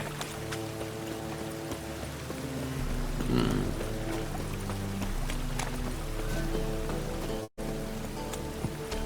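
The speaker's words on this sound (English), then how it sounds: "Witches have conjured rain." Rain conjured by witches in The Witcher 3: Wild Hunt falls steadily as a soft, constant patter under game music, with horse hoof clops passing through the scene.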